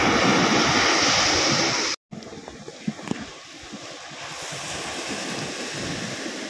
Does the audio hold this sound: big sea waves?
yes